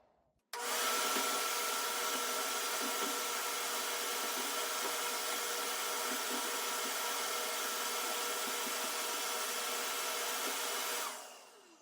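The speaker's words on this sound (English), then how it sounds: "So we're going to want to turn on our vacuum cleaner." A vacuum cleaner switches on abruptly and runs at a steady, loud whining roar for about eleven seconds while cleaning ash from a masonry fireplace and chimney, then cuts off.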